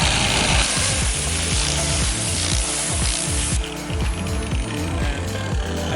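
A polishing machine fitted with a microfiber pad runs steadily, giving a dense, continuous whir with a rhythmic mechanical clatter throughout and no talking.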